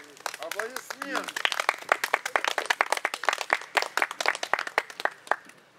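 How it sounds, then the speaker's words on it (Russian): Audience applause at an outdoor spring poetry coffeehouse gathering, a dense run of many hands clapping that swells and carries on steadily for several seconds, with a brief voice at the start. "Аплодисменты."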